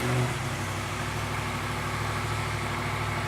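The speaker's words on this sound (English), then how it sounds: "So when you start up the bike" A 2018 Yamaha MT-10 motorcycle engine idling steadily after start-up, a loud, close, continuous low rumble with a brief louder burst at the very beginning.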